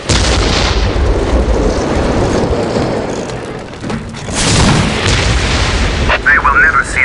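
A whirlwind missile battery fires in the Dawn of War strategy game, a dense roar of launches and booming blasts that rumbles on loudly, dips briefly and swells again, with a short metallic chirp near the end.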